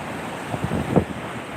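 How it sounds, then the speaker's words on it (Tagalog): Rough sea at Gumaca, Quezon: choppy waves surge and wash in two short swells over a steady bed of wind noise, close and moderately loud, with no voices. "Ayan, medyo maalon."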